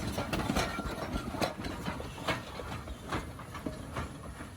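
An articulated steam locomotive of 2-6-6-2 type, with two sets of driving wheels and two sets of pistons, runs with a continuous rumbling rail clatter and rhythmic chuffing bursts, fairly close and with no talk.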